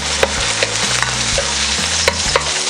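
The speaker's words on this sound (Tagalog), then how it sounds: "Una po natin na igigisa itong ating sibuyas." Onions sautéing in a hot pan for a beef and pinto bean dish, a loud, even sizzle with occasional clinks and scrapes from stirring, close up and with no talking.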